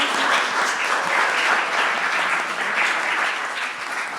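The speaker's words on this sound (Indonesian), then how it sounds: "Berikan tepuk tangan untuk Emily." A crowd applauds for student speaker Emily after her talk on globalisation's effects on teenagers, a dense, sustained clapping that fades slightly at the end while a voice talks over it.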